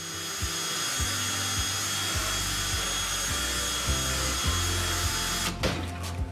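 A stiff 5-inch flat drill brush spins against a stained door, a steady loud whirring scrub with rhythmic pulses of the motor, close and continuous without talk.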